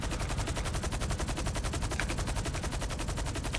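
Sustained rapid automatic gunfire aimed at the player in GTA Online, a dense unbroken burst of shots rattling close and loud for the whole stretch with no voices.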